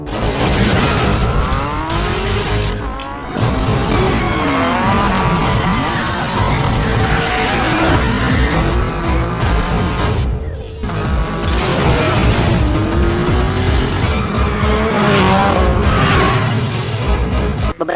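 Race cars in a film scene roar and snarl through corners, with sweeping engine pitches, skids and crashing impacts layered under a dense, loud soundtrack that has a couple of brief drops.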